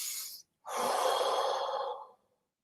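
A deep breath taken during a neck stretch in a fitness warm-up: a short exhale, a brief pause, then a long, close, breathy inhale-exhale of about a second and a half, with no talking.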